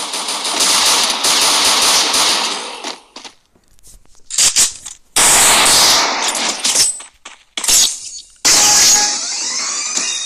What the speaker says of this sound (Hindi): भाई जमीन पे नहीं, मतलब जमीन पे क्यों फायर कर रहा है?